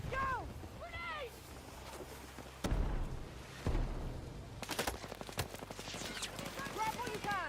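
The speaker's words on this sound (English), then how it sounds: "Contact enemy machine gun!" Machine gun fire in a Battlefield 6 battle, bursts of rapid gunfire near and far, with a couple of heavier loud blasts amid chaotic combat noise and voices shouting over it.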